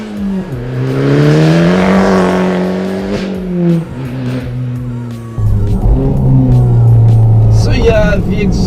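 A Fiat Abarth 500 with a non-stock aftermarket exhaust revs hard and accelerates, its loud raspy engine note climbing through gears close by, then settling into a steady drone before a final rev.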